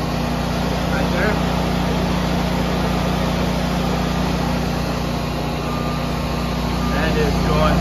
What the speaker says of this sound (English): the generator kicked in. So I'm now powering my house through the generator